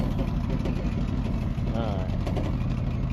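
A Ford F250 pickup idles with a rattling, shaky exhaust, giving a steady, close low rumble that holds evenly for the whole stretch with slight wavering.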